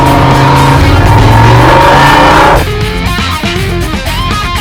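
A Ford FE V8 engine roars loudly, revving high and then dropping to a lower, rumbling pitch with shifting tones.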